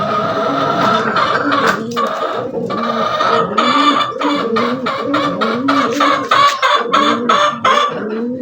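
Gamefowl chickens kept in an urban setting cluck and call repeatedly in a dense, overlapping chorus, close and loud, with rhythmic bursts throughout.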